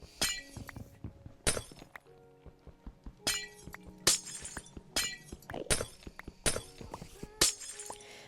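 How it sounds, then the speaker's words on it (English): Glass blocks shatter repeatedly in Minecraft, about eight sharp, bright crashes spaced a second or so apart, each with a tinkling tail, over quiet clicks and thuds of placing and breaking blocks. "I wish it didn't make the shattering sound when"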